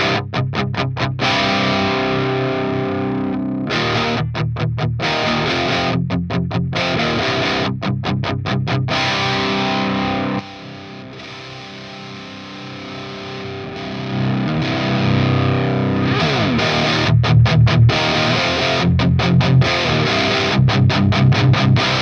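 An electric guitar plays through a Crab BE tube amp on its saturated clipping stage, with heavily distorted chords and choppy stops, a quieter passage midway, then a louder return.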